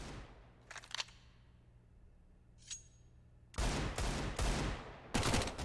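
Auto sniper gunfire in the video game CS:GO on the Mirage map during a competitive match: a few sharp, scattered shots early, then denser loud bursts toward the end.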